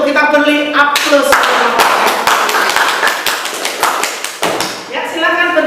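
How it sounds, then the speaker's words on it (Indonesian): A classroom of students applauds a group about to present, a burst of brisk clapping lasting several seconds, close and loud, with voices at the start and end. "Kelompok 1, kita beri aplaus."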